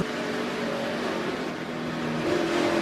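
A NASCAR Truck Series engine, onboard after the truck hits the wall, runs loud and steady with a sustained throttle-up drone through the whole stretch, rising slightly toward the end.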